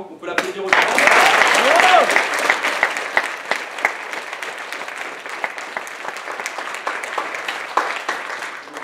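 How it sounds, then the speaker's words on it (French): A theatre audience at the Théâtre de la Cité in Nice applauds a stage production of Kaamelott: dense, close clapping swells in after a short pause, peaks, then settles into steady applause, with a few voices calling out. "On peut l'applaudir aussi."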